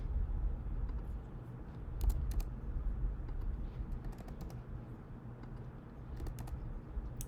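Steady soft keystrokes on a computer keyboard while numbers are entered into Minitab statistics software, continuous light clicking with a few sharper taps, quiet and close with no talking.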